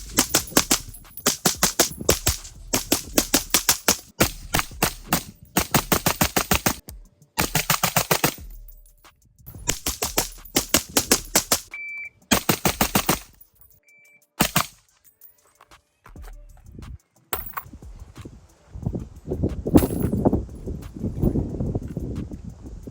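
Rapid bursts of close, loud gunfire from a PSA Sabre AR-15 rifle during a 500-round test, sharp shots in quick strings with short pauses between mags, ending in softer rumbling noise.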